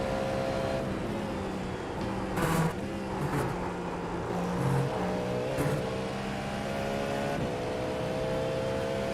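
A race car engine in the iRacing sim holds a steady droning tone, with a few brief louder surges as the revs shift under braking, close and constant with no voices.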